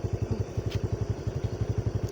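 A motorcycle engine runs at a steady idle, its rapid even pulses thumping close and moderately quiet, with no talk over it.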